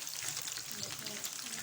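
Chicken pieces frying in a pan on a low flame, giving a dense, steady sizzle with crackling close by.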